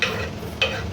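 Ginger-garlic and green chilli paste is stirred into shrimp in a pan, giving a short soft sizzle with two scraping strokes, close and fairly quiet.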